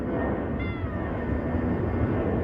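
A stray cat meows between apartment buildings, a thin drawn-out call rising over steady low background noise, fairly faint.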